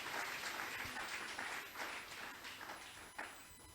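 A church congregation at an Easter service applauds together, a soft, sustained patter of many hands clapping at a distance for the whole stretch.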